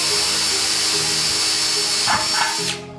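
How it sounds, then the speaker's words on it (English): A power drill whirs continuously and close, its pitch shifting as it bites into wood, then winds down and stops near the end. "we're just going to quickly and slowly drill this into our sled"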